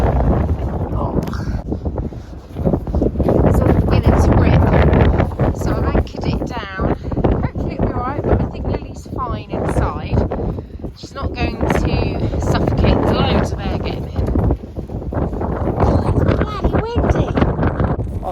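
Outdoors on a blustery February day, wind buffets the microphone in a continuous loud roar with gusty swells, while a person talks over it.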